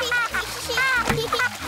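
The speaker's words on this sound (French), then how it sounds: "mais n'éclabousse pas autant" A cartoon child kicks their legs in a swimming pool, sending out short bursts of splashing water while children's voices chatter and squeal over the top.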